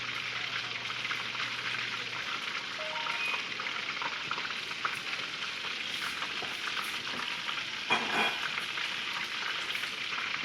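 Onion and mixed vegetables sizzle steadily in a hot pan for a Louisiana chicken pasta, a continuous crackling fry with no voices over it.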